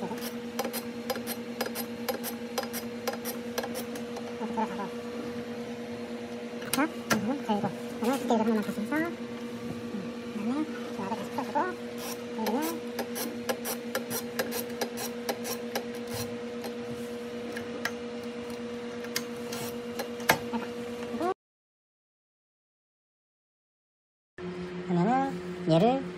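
A BioKonvision BKKD 1508A microtome is adjusted and turned. A steady mechanical hum runs beneath repeated close clicks and ratcheting ticks from its knobs and gears, pausing briefly before resuming.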